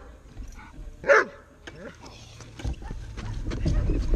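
A working dog gives one sharp, fairly close bark during competitive dog training in Rogue Valley, Oregon, followed by softer yips and shuffling, with a trainer talking nearby.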